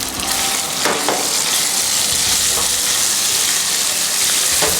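Chicken sizzles and fries in hot oil in a pan in a Siem Reap, Cambodia kitchen, loud and close, with a few brief bursts of stirring or scraping over the constant crackle.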